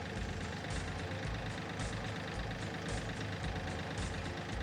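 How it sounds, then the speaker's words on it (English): A KIOTI tractor engine runs steadily at a low, even idle while the front loader bucket is raised, with a faint periodic hiss riding on the continuous rumble. "So raise your bucket, you're gonna pull back on that."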